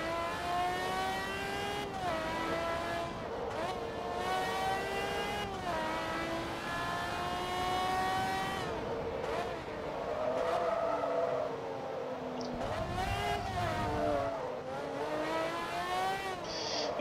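Race cars in Forza Motorsport 2, including a Ferrari and a Lamborghini, rev and shift through gears while overtaking slower cars, engine pitch climbing and dropping repeatedly in a continuous, fairly loud whine with no talk.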